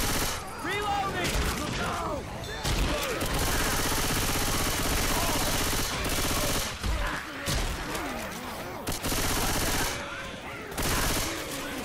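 Sustained automatic gunfire from Left 4 Dead 2 zombie-shooting gameplay in The Parish, a dense continuous fusillade with brief pauses, loud and close, with players talking over it.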